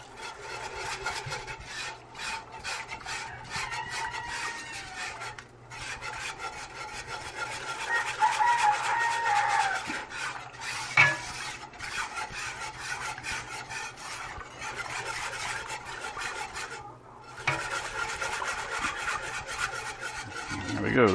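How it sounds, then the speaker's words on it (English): Bouillon cubes being broken up and scraped in gravy inside a Dutch oven, a steady rubbing, rasping sound with a utensil working against the pot, continuous and close for the whole stretch. "Continue breaking up those bouillon cubes, because there's always little bits and pieces that don't get dissolved"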